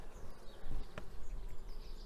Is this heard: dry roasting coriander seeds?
no